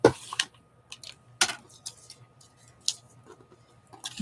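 Scissors snipping words out of a glossy magazine page, a few sharp separate clicks and cuts spaced irregularly against quiet background.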